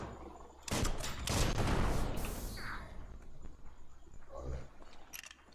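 Gunfire in the Biomutant video game: a loud burst of rapid shots with whooshing impacts, then a few scattered quieter pops, with faint voice traces underneath.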